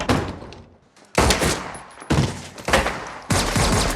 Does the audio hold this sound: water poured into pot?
no